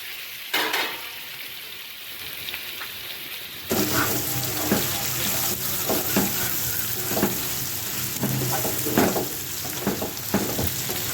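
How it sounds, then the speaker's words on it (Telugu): Paneer pieces dropped into hot oil with mixed spices set off a sudden loud sizzle after a few seconds of quieter crackle, then keep frying steadily, with occasional spatula scrapes and clinks close by. "ఇదిగోండి ఆయిల్ కాగిపోయింది కదండి ఇవి కోసి పెట్టుకున్న మసాలాలు అన్నీ కలిపాం కదండి పన్నీరు ముక్కలు ఇవి వేస్తున్నానండి"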